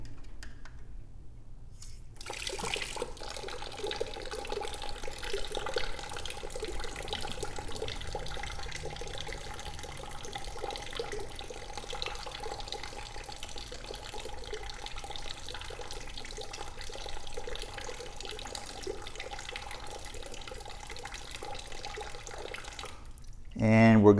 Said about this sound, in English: To get our check valve reading, we're going to open test port number 2 fully all the way.